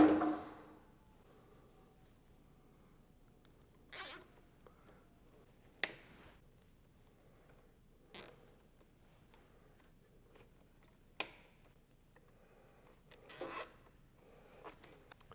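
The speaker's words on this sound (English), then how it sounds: "Take our zip ties, and we're going to tie this stuff up so it all is together and secure." Zip ties are ratcheted tight while fitting an Aprilia motorcycle high fender kit: a handful of short, crisp rasping zips spaced several seconds apart in a quiet room, with no talking.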